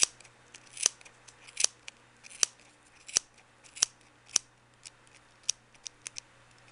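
Scissors snip through yarn to free a pom pom, about a dozen crisp, close cuts in an uneven rhythm over a quiet background.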